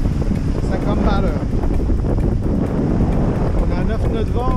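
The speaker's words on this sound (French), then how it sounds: "On a 10 nœuds de vent et on marche à 6 nœuds." Steady wind buffets a sailboat under way at sea off Corsica in about ten knots of breeze, a constant rushing roar with water noise and faint voices talking underneath.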